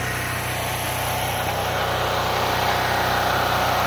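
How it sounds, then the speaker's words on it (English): A small gas generator runs steadily close by, a constant buzzing engine drone with no change in pitch or speed and no talking. "Yeah, I got this generator for 50 bucks. All it needed was a pull cord, and she runs like a top."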